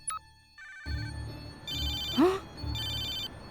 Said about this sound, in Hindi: फोन लगा के देखता हूँ।